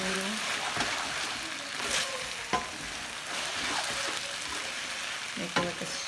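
Ramen noodles stir-frying in sauce in a hot pan, a steady loud sizzle with occasional scraping stirs and clatters.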